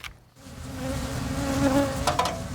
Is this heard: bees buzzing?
yes